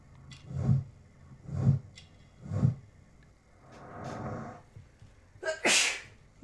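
A character sneezes in the Sherlock Holmes: Crimes and Punishments video game, a single sharp burst near the end following several low, rhythmic breathy sounds.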